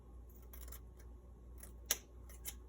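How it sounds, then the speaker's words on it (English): Worn scissors snipping, a handful of quiet, crisp cuts spaced irregularly, close by in a quiet room with a low background hum. "That scissors is terrible."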